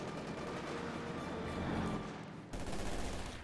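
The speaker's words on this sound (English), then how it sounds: "engaging the shock troopers with this machine gun and main gun" Machine gun fire in the World War II strategy game Company of Heroes 2, heard as dense, continuous rattling bursts mixed with battle noise, steady and moderately loud throughout with a brief dip before the fire resumes.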